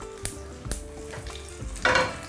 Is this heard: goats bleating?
no